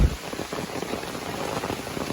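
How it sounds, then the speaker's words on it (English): Steady rain falls on the Appalachian Trail during a long-distance hike, a soft, even patter with continuous dense drops close by and no voices. "maybe I'll do a little bit more recording or something if this rain quits"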